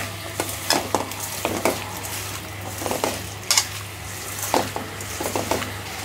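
Shrimp and okra with spices frying in a pan, a continuous sizzle broken by repeated scraping and clinking strokes of a utensil against the pan, close and fairly loud.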